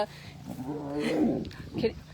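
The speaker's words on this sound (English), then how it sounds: "there's a big noise from a small lion" Young lion cub roaring at a wildcat sanctuary birthday party, a rough, rising growl-roar lasting about two seconds, fairly quiet and slightly distant, with a person talking over it.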